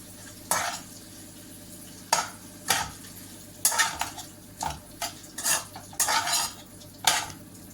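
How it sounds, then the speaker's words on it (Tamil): Salted mushroom rice being mixed in a pot, with repeated bursts of spoon scraping and clinking against metal over a faint low hiss. "சேர்த்திட்டு இதை நல்லா மிக்ஸ் பண்ணி விட்டுக்கலாம்"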